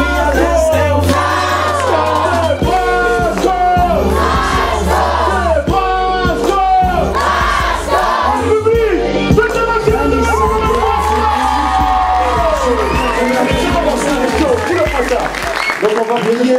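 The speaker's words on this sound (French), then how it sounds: "On l'applaudit encore bien fort." A studio television-show audience applauds and cheers loudly for a rapper, sustained clapping and whoops under a strong music bed with a host's voice and crowd yells.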